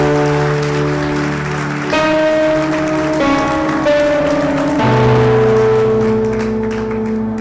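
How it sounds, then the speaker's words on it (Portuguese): A church congregation at an Easter service claps in a dense, sustained wash of applause over steady held musical tones, loud and continuous throughout. "Eu gostaria de convidar você a aplaudir ao Senhor Jesus com toda a sua força"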